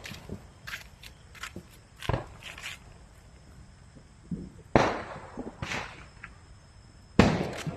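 Diwali firecrackers pop and crackle sporadically outdoors, with a few louder bangs standing out against a scattered background of small snaps and rustling.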